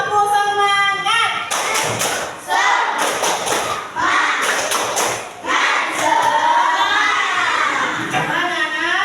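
A classroom of children doing the rhythmic 'tepuk semangat' spirit clap, loud bursts of group clapping with thumps and shouted chanting between them, close and energetic.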